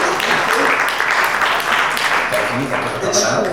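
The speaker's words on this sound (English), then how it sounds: "Round of applause." A crowd applauds with dense, continuous clapping that rises and falls slightly, filling the whole moment at close range.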